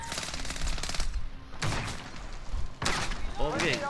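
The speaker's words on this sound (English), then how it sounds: "I'm getting shot at from a lot of different areas." Automatic gunfire in Call of Duty: Modern Warfare comes in loud, rapid bursts of close shots separated by short pauses, with heavy thumps and mechanical clatter mixed in.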